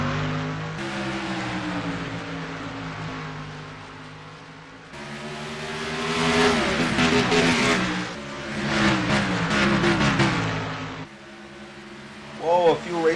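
Race car engines roar and rev as a field of cars pulls away at the green flag of an oval race, loud surging and overlapping engine notes rising and falling, with an excited commentator talking over them.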